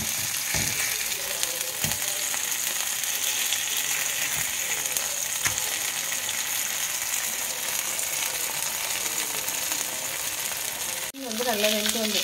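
Vanjaram seer fish pieces frying in oil, a loud dense sizzle running steadily for many seconds with occasional clicks and spatter pops, briefly dipping near the end before continuing.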